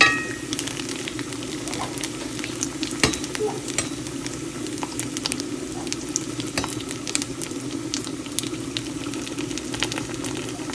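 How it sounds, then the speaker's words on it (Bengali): Steady sizzling of papads frying in hot peanut oil, a continuous crackling hiss with occasional sharper pops, close and moderately loud, no talking. "এইভাবেই সব পাঁপড়গুলো আমি ভাজা করে নেবো"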